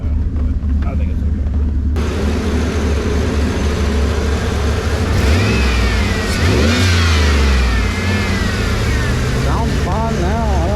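Turbocharged Chevrolet Silverado pickup at a drag strip, engine loud and close, revving and climbing through repeated rising pulls with harsh roar and whine, talk partly over it.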